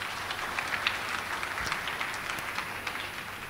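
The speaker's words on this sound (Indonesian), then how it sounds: "sekali lagi kita berikan tepuk tangan yang meriah buat Tuhan Yesus" A church congregation claps together in sustained, even applause, a dense steady patter of many hands heard from within the room at moderate loudness.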